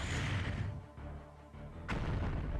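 In the video game Sakura Wars, heavy booming shots resound through a loud, dense game soundscape, with a sharp blast near the end rising out of the rumble.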